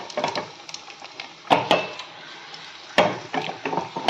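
Two dried red chillies, torn by hand, fry in hot oil. A soft sizzle runs under sharp metallic clatters and stirring scrapes of a utensil against the pan.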